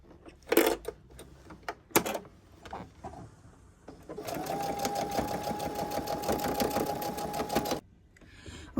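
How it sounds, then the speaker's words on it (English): Sewing machine stitching zipper extensions onto a fabric packing cube: a few clicks and handling taps, then a steady close whirring run for about four seconds before it stops. "I sewed the 2 zipper extensions, if you will, front and back"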